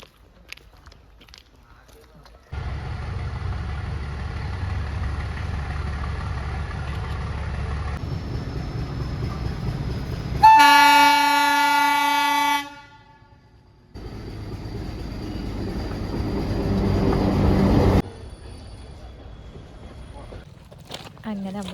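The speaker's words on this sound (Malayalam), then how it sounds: "ട്രെയിന് ഇപ്പം വരുന്നുണ്ടെന്ന് തോന്നുന്നു." The Ooty toy train pulls into a hill station. A low rolling rumble builds and runs on steadily, then a loud horn blast sounds for about two seconds. The rumble returns for several seconds before fading.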